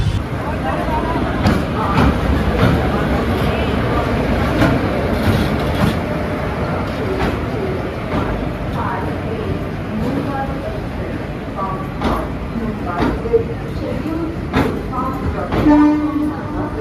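The Circar Express passenger train, heard from an S5 coach on its Kakinada Town to Puducherry run, rumbles steadily, with the rattle of carriages, occasional clanks and a distant horn, while people talk in the background.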